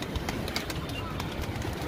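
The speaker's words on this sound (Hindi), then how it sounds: "जैसे कि ये सामने गोल्डन कबूतर बैठा आ गया" Golden pigeons in an aviary coo softly amid a dense mix of other bird calls and background chatter, with people talking nearby.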